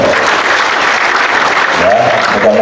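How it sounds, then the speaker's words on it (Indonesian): Applause for a guest at a school event in Indonesia, a dense crowd clapping loudly and steadily throughout, close and sustained without a break. "Tepuk tangan untuk beliau."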